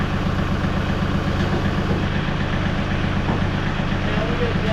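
A tractor engine idles and rumbles steadily while lowering a load, a close, continuous low drone with a regular throb. Faint speech sits under it.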